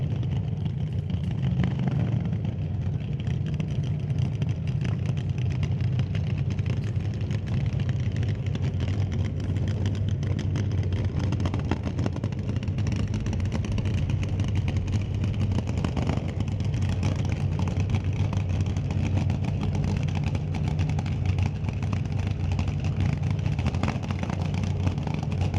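A naturally aspirated drag racing car burning 90% nitromethane at a drag racing event idles with a continuous, heavy low rumble that stays steady and loud for the whole stretch.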